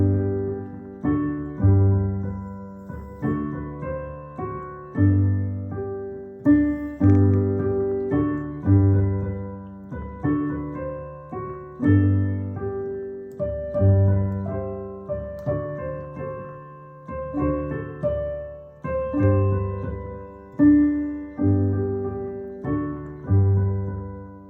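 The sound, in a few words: O Christmas Tree played with basic tonic and dominant chords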